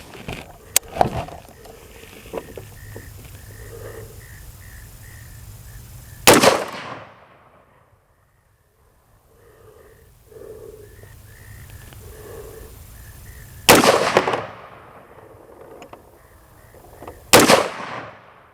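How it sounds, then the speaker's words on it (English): Three sharp gunshots from an AR-15 pistol fitted with a Sig Romeo 5 sight, fired singly with pauses between, loud and close, the first followed by a gap of several seconds and the last two coming nearer together. "gonna start putting rounds down, but I'm gonna do everything in series of 3"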